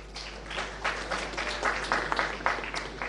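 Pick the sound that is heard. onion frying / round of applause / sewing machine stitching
round of applause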